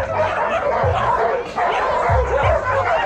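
Dogs of all sizes and breeds bark, yip and whine excitedly at a canicross trail race, loud and continuous over a busy outdoor crowd din with occasional voices.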